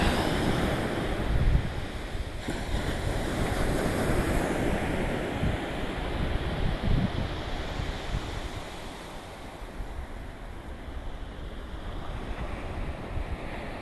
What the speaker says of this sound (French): J'entends l'océan me parler.